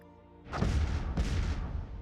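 Colonies bombed from an orbiting fleet in the Master of Orion strategy game: two heavy, rumbling explosions in quick succession, booming and sustained, loud and alone.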